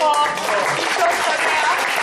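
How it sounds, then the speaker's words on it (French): Festival audience at the Cour des Contes storytelling festival applauding loudly and steadily, a dense close wash of clapping for the whole brief moment. "Applaudissons très fort."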